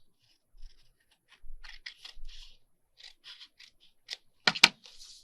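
Scissors snipping through paper and glued scrapbook pages, a few short scattered cuts building to a couple of louder crisp snips near the end, fairly close and quiet, with no talking.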